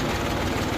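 A new farm tractor's engine runs steadily close by in a village field, a dense low rumble with no pauses and no voices.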